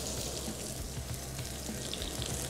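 Food frying in a pan for kebab and salad dishes fills the space with a dense, loud, continuous sizzle and spattering crackle, heard up close and unbroken by any speech.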